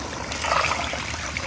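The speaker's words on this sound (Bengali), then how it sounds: "এখন সম্পূর্ণ দুধটাই দিয়ে দেবো।" Milk pours into a hot chicken spice mixture in a pan, a short close burst of liquid trickling and hissing that swells briefly in the middle.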